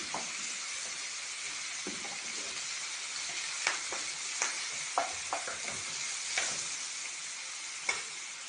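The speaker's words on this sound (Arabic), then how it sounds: "نشوحها كده بالتوابل" Chicken with spices sizzles steadily in a hot pan on a stovetop, a continuous hiss dotted with small pops and scraping stirs, close and fairly quiet.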